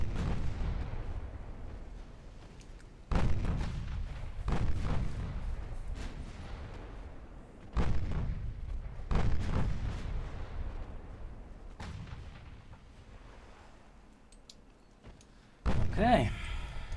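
Naval gunfire in Ultimate Admiral: Dreadnoughts, warships firing at the heavy cruiser Hipper: about seven heavy booming salvos at irregular intervals, each a sharp loud blast with a rolling decay.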